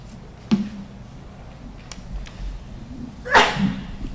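In a quiet meeting room, a single short sneeze sounds from a distance, with a faint earlier snort before it over low background hum.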